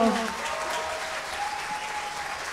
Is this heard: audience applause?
yes